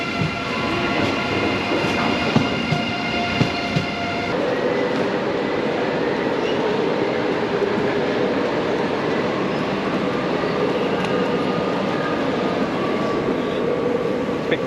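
A train rumbles steadily along the rails, with a loud, continuous roar and occasional clicks, and no voices.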